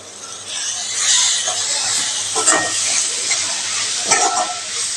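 Small dried fish frying in oil gives a steady, close hiss and crackle, with brief bursts of louder sizzling and stirring and no voice.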